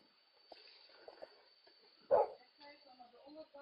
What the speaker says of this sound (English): Sit. Nice dog.